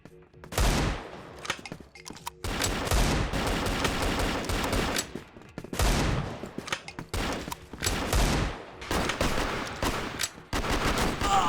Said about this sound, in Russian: давайте из принципа попробуем кого-то кокнуть с этого дробовика